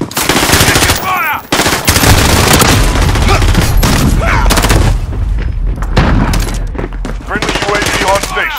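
Gunfire in Call of Duty: Modern Warfare, with loud, close automatic bursts and booming shots firing almost continuously with brief pauses, mixed with in-game voice callouts.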